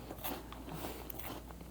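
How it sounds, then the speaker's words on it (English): A crunchy snack bought at Costco is bitten into, giving a quick, faint crunch and a few crackling chews close to the mouth against a quiet background. "let's just try one more bite"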